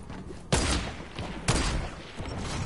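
Two sharp sniper rifle shots in a video game shootout, spaced about a second apart and each followed by a rolling echo, with a softer thud trailing after.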